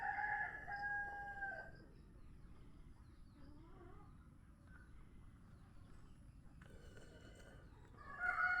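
Chickens and a rooster wander about a farm yard; a rooster crows clearly near the start and again at the end, with quiet clucking and faint background in between.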